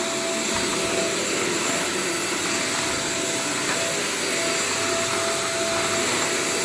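A Klindo steam vacuum cleaner runs with strong suction, giving a loud, steady, close roar with a thin whine riding on top that holds unchanged from start to finish.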